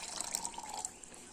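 Water is poured into a blender for milk cake batter, a faint, short splashing trickle heard close with no talk.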